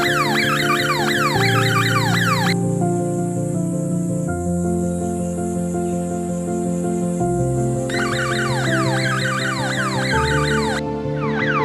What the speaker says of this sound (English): wires that trigger a siren-based alarm system when elephants push against them